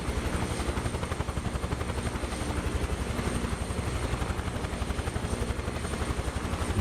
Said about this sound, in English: I can't get over how good the helicopter sounds